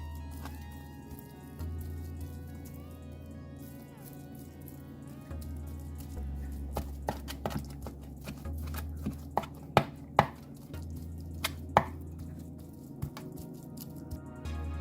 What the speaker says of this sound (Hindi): देखें इस तरह बारीक छोटे छोटे टुकड़े इसके पीस हो रहे हैं।